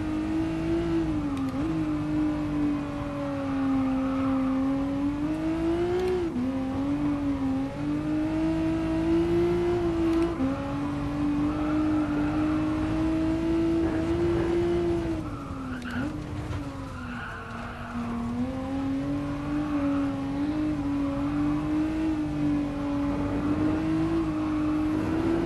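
A Toyota FT-1 from 2014 accelerates and holds a steady engine note throughout a racing-game drive in GT Sport, rising and falling with gear changes while the tires squeal through corners, loud and continuous with no one speaking.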